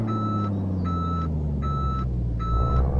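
A Kenworth W900 truck in Euro Truck Simulator 2 sounds four evenly spaced reversing beeps over a steady, close engine rumble.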